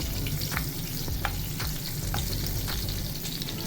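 Green chillies stuffed with achari masala fry in oil with mustard seeds, a loud close sizzle with crackling pops and soft stirring scrapes throughout, no voices.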